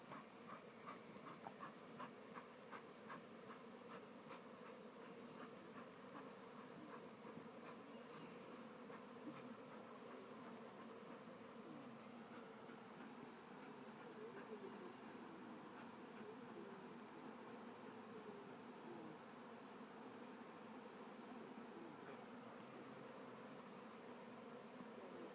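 Honey bees from small hives buzzing during the capture of a swarm, a steady, faint droning hum that runs continuously throughout with no talk.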